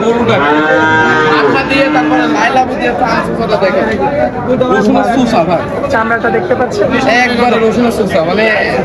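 A Holstein Friesian cow moos loudly several times, drawn-out calls overlapping with nearby people chattering at a cattle sale.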